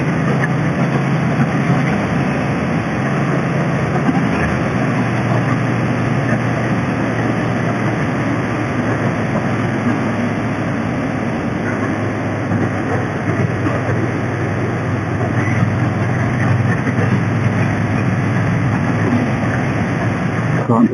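Triumph Bonneville motorcycle engine lugging at low revs while riding, a continuous dense rumble with heavy road and wind noise, loud and steady throughout.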